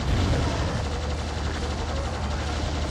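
Plasma gun fire in Doom II pours out as a continuous, loud, dense stream of rapid energy shots over a heavy low rumble, steady for the whole span with no talking.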